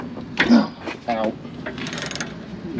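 A hand ratchet loosening 14 mm caliper bracket bolts during a rear brake job on a Fiat 124 Spider, heard as a few short clicking bursts of the pawl separated by pauses, close to the microphone with faint background noise.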